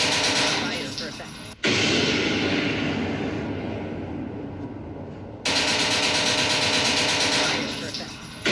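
Artillery fire in a video game, heard as loud, dense rumbling blasts in two sustained barrages that fill the clip and are broken by a brief sharp cutoff between them.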